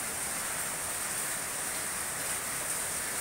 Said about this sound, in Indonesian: Hujannya besar dan mulai banjir nih.